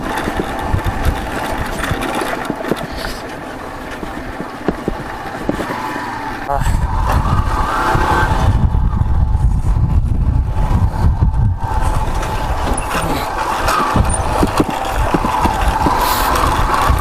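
A Yamaha FZ motorcycle engine drones steadily while riding, growing louder and rougher after a few seconds, with a voice talking intermittently over it.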